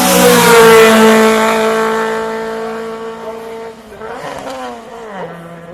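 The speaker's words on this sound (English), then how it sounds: "David has now got another Group A car from the line." A Group A rally car launches hard from the start line of a Shelsley hill climb, a loud, close engine howl falling in pitch as it pulls away and shifts, then a burst of distant revving, with an announcer speaking over it.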